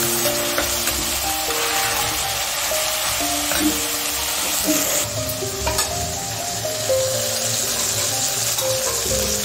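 Salted water pours into a hot pan of frying eggplant, hissing and sizzling steadily with a running, splashing rush throughout.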